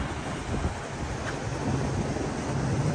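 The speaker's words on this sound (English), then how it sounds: "Oh, it's nice and windy." Strong, constant wind buffets the microphone in a dull, rumbling roar that fills the whole stretch with no other clear sounds.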